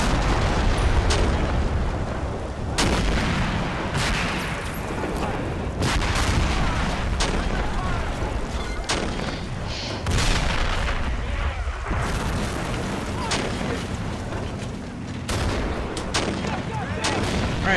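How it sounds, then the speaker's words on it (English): Constant heavy gunfire and artillery booms from a World War II combat video game, with dense overlapping shots and explosions filling the whole stretch, loud and near. "I can't think with all this loud shooting."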